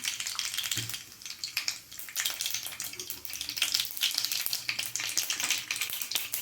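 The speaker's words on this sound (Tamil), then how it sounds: "இப்போ எண்ணெய் காஞ்சிடுச்சு ஒரு ஸ்பூன் கடுகு உளுத்தம்பருப்பு வரும்" Dense, continuous crackling and popping of mustard seeds sizzling in hot oil, close and steady throughout.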